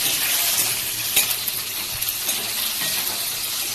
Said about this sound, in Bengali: আমি রান্না করছি, হালকা ভাজা ভাজা হয়ে গেছে